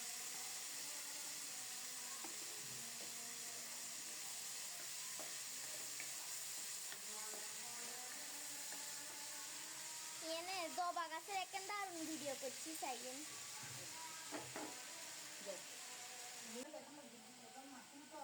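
Potatoes frying in a pan of oil with a steady, broad sizzle that runs throughout, and a voice talking over it partway through.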